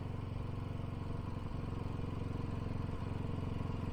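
A BSA Goldstar motorcycle engine runs at a steady, low, thumping idle, close by and continuous, with no talk.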